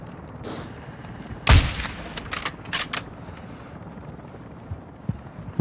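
Gunfire in a combat video game, a few sharp loud shots clustered in the middle with a broad bang, then scattered fainter pops against steady ambient noise.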